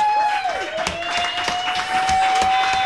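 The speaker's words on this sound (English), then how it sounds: "We give us a round of applause" A crowd claps at the end of a live music show at Ott's Tavern in Delran. The scattered, moderate applause sits under a sustained ringing tone from the stage sound.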